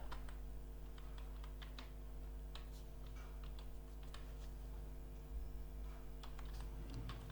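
Keys clack steadily on a computer keyboard while text is typed into a Microsoft Word document, a quiet, close patter of uneven taps over a low constant hum, with no talking.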